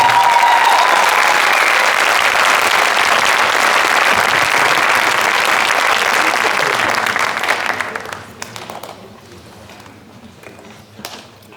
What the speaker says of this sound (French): je pense qu'on peut commencer par les applaudir pour leur donner toute notre énergie